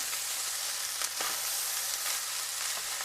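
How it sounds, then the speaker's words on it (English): Veggies and rice stir-frying over high heat on a sheet pan, giving a steady close sizzle with faint scraping and stirring touches and no voices. "we're going to stir up our veggies into our rice"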